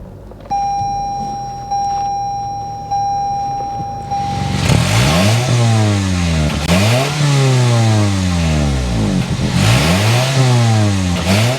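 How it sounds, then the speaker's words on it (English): A 2024 Toyota Camry XSE starts up after a steady chime, the engine catching loudly and then revving repeatedly in rising and falling sweeps through its exhaust, close and clear. "start up this X Series so you can hear that exhaust now"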